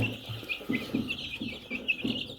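Tiger chickens cluck in short, repeated bursts on a farm in Sylhet, Bangladesh, several birds close by with a soft background murmur and occasional higher chirps.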